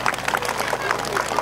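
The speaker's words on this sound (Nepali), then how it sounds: "एकचोटि ताली बजाउँ त ल" An audience clapping at a live comedy show in Nepal, close and brisk, with scattered hand claps and crowd murmur under ongoing speech.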